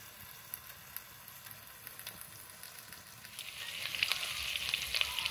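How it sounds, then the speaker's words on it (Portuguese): Hot oil sizzles and crackles steadily, growing louder and busier partway through as chicken fries in a hot pan on a wood-fired stove. "A panela já estava quente, então é rapidinho ela começa a fritar"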